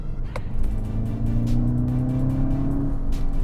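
A VW MK6 GTI with a dog bone mount insert pulls hard in third gear from 40 mph. A steady, rising engine drone is heard from inside the cabin, loud and continuous.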